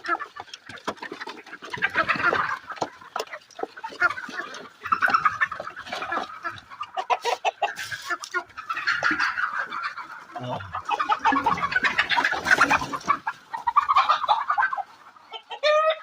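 Several desi hens cluck and chatter close by in irregular bursts, with occasional louder squawks, continuing throughout.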